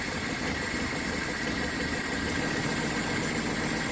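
A 1983 Toyota SR5 4x4 with 141,000 miles idles steadily on its first run as a garage find: a close, continuous engine drone with even vibration and no pauses or revving.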